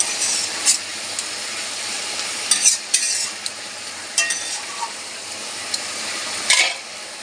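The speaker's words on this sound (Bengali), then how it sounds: "শাক ফুটছে এই যে শাক ভাজা ভাজা হচ্ছে" Pea greens (matar shak) frying in a pan beside snakehead fish, a steady close sizzle broken by scraping stirs and spatula knocks, with no voices.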